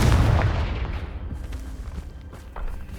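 A Confringo blasting spell explodes in the Hogwarts Legacy video game, a single heavy boom up close that rolls off into a long, rumbling decay.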